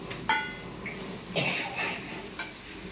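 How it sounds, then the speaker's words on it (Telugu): Onions frying in a pan toward golden, a low continuous sizzle broken by three clinking scrapes of a metal spoon against the pan. "ఉల్లిపాయలు బాగా వేగాలండి, గోల్డ్ కలర్ వచ్చినంత వరకు"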